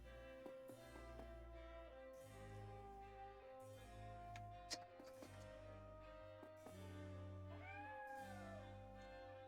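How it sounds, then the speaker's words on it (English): A cat meows several times in the role-playing game Triangle Strategy, faint and set against a steady background of game music. "There's a cat back there."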